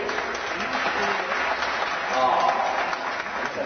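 An audience claps in steady, continuous applause at a 2003 finale in St Soupplet, while voices talk over the clapping.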